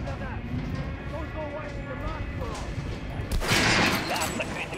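Gunfire in Metro Last Light's shooting range: mechanical weapon clicks and rattles, then a loud burst of shots near the end, under a voice.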